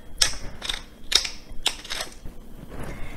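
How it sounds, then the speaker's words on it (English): A hand pepper grinder cracks fresh pepper over a roasted butternut squash salad in four or five short, close, gritty ratcheting twists spaced about half a second apart. "I'm gonna grind some fresh pepper on here."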